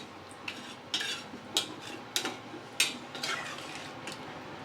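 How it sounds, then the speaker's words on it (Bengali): A spatula scrapes and clanks repeatedly against a pan as already-fried meat and potatoes are stirred, with gentle frying underneath and about six distinct strokes at a moderate, uneven pace. "মাংস আর আলু তো ভেজে নিয়েছিলাম, আর এখন ভালোভাবে কষিয়ে নিচ্ছি"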